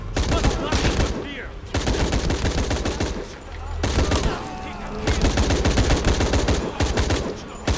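Sustained bursts of automatic gunfire in the action game Shadow of the Tomb Raider, loud and near, rattling volleys with short gaps and some background game sounds.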